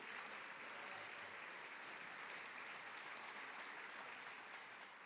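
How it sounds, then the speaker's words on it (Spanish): A church audience applauds a panel with continuous, even clapping from many hands, sustained at a steady level for several seconds and heard from within the hall. "Un aplauso para nuestro panel."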